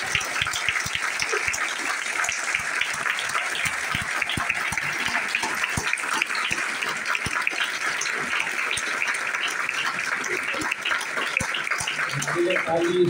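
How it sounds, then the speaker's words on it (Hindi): A crowd at a business training event applauds in a sustained, dense burst of many hands clapping together, steady and fairly loud throughout. "जरा बॉम्बे वाले इंदौर वाले ने ताली बजाओ"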